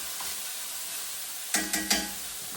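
Minced pork with garlic and green onion sizzling in a pan, a steady quiet fry with three sharp louder scrapes or stirs close together near the end.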